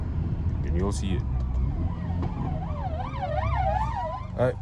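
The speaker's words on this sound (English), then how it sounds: "That's an ambulance, bro." An ambulance siren wails and yelps at moderate distance over the rumble of a loud Mercedes CLA 45 AMG during a drive in South Africa, the sweeping tone rising and falling with brief voices.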